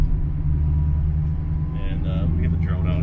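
A 1969 Camaro rolls into a residential neighborhood, its low engine rumble steady and close throughout, with a voice talking over it.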